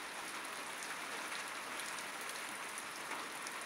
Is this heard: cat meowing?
no